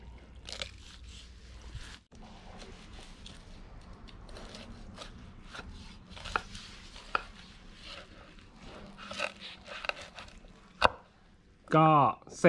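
A knife slices rounded, string-tied crispy pork chashu with crackling skin and tender meat into pieces, giving irregular crunchy cuts and taps on a board, with a brief shrill squeak near the end.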